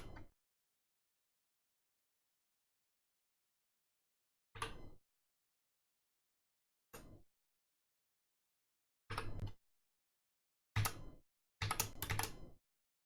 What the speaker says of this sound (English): I'm hitting Shift X to toggle the black from stroke to fill.